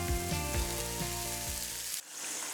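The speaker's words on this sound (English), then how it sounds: "They're frying." Tortillas fry in a hot pan with a steady, close sizzle that runs loudly, then drops off sharply near the end as the sound thins to a quieter crackle.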